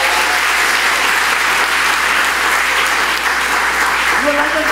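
A theater audience claps through a sustained round of applause at a curtain call for the stage show Love Sax and All That Jazz, dense and steady from start to finish with no pauses.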